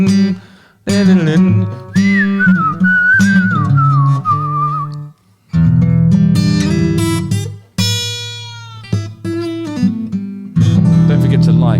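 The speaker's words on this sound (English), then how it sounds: "I won't whistle again next time" A person whistles a wavering melody, close and clear, against loud music that stops and starts around it.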